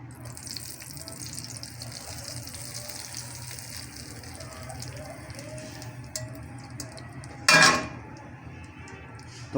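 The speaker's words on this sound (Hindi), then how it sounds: "घी हीट अप हो गया है, अब इसके ऊपर हम जस्ट तड़का लगाएंगे।" Hot ghee tadka poured over sarson ka saag in a home kitchen, a soft background of sizzle and utensil clinks, then one loud sharp sizzling burst near the end.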